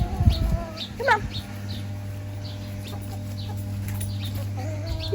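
Chickens cluck and call near a garden, several short bird calls scattered over the clip over a low steady background hum, with a brief louder disturbance at the start.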